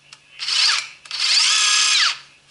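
A Makita DHR400 cordless rotary hammer drills in two bursts, a short one and then a longer one, each with a loud, close, high-pitched whine that revs up and winds down.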